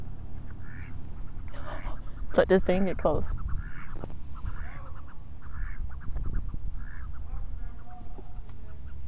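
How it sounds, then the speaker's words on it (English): Ducks quack and honk in a short burst of loud calls near the middle, heard outdoors under steady background noise while people talk nearby. "Attack of the duck."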